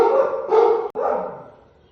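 One of a litter of scared rescue dogs from Romania gives a couple of close, loud, drawn-out whining barks that trail off into a softer whimper.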